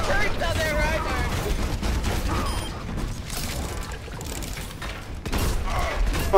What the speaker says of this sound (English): The turret going ham.